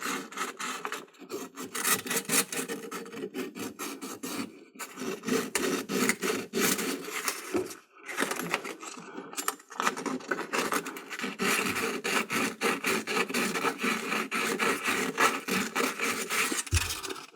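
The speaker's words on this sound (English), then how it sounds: "I'm just going to hit this with a little bit of sandpaper real quickly" A pipe connector being hand-sanded with fine 320-grit sandpaper, heard close up as rapid back-and-forth rasping strokes in irregular bursts with brief pauses, and no talk.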